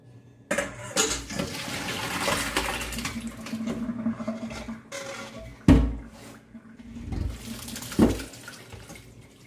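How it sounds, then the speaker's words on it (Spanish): Water-cooked fish for ceviche being strained to drain off excess liquid: splashing, pouring water with a couple of sharp clatters of a strainer or pan against the sink, moderately loud and close. "Ahora lo voy a colar para quitarle todo el exceso de líquido."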